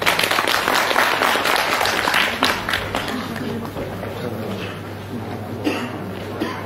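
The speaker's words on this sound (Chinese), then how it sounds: "掌声鼓励。" Audience applause fills a small crosstalk (xiangsheng) theatre show in Beijing, steady clapping from a modest crowd that swells early and then tapers off over several seconds, with no talk over it.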